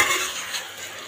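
Boiled potatoes, drained after pressure cooking, being stirred in a pan: a continuous scraping, swishing stir with a soft sizzle, close and fairly loud, with no voices.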